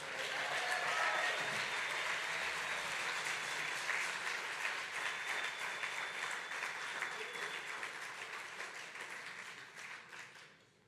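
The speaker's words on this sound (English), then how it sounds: "Please give that brother another round of applause." Audience at a Malcolm X Day birthday celebration applauds, a full, steady round of clapping that holds for about ten seconds before tapering off.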